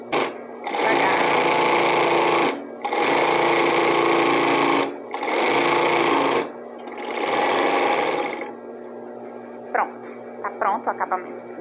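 An overlock sewing machine stitches the edge of fabric for a simple straight skirt, running loud and steady in four bursts separated by short pauses, then falling quiet while a person speaks nearby.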